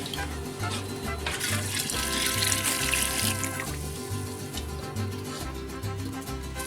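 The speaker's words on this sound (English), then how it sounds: "we're gonna add a little bit more water," Hot tap water pours steadily into a pot while pozole is being made, a continuous hiss and splash running the whole time, close and even.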